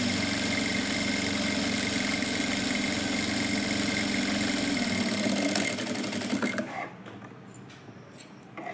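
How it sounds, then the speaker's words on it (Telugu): A sewing machine stitches thread piping with a steady, loud mechanical whir and rapid needle clatter for nearly six seconds, then slows and stops, leaving quiet room tone. "ఫస్ట్ మామూలు దారం ఎలా కుడతామో అలా కుట్టుకోవాలి"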